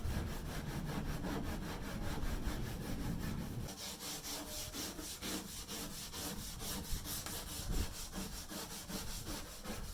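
Old paint and years of baked-on dirt being scraped off a beat-up kayak hull: steady, rhythmic rasping strokes up close, becoming brighter and harsher partway through, with no voices.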